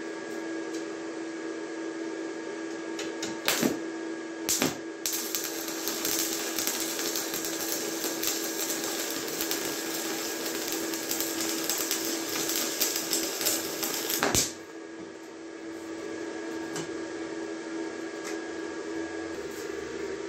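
Stick welding on 3 mm steel plate with a 2.5 mm electrode at about 40 amps, using a Saints ST 175a inverter: a steady crackling, sizzling arc lasting about fifteen seconds, with a few sharp pops before it and a quieter hum after.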